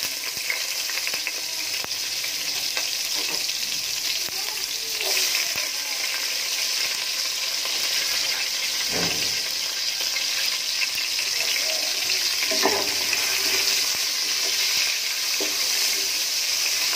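Cardamom and onion frying in oil in a pan for beef bhuna give a loud, dense, continuous sizzle up close, broken by a few stirring knocks and clatters.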